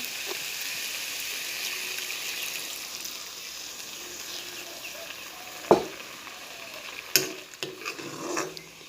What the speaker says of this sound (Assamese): আৰু এতিয়া ইয়াতে দি দিছোঁ পানী।